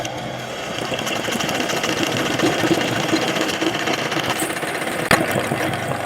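An embroidery sewing machine stitching a neck border runs continuously with a fast, even mechanical chatter, close and steady, with a sharp click near the end.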